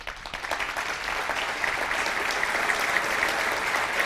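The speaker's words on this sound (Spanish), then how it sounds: "para quien pido un fuerte aplauso" A crowd applauds warmly to welcome Cardinal Ricardo Ezzati, steady dense clapping sustained evenly from start to finish with no speech over it.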